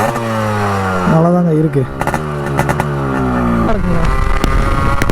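A Yamaha RX135 motorcycle with a bored engine, fully restored and for sale, runs loud and close, its engine tone rising and falling through revs, while someone talks over it.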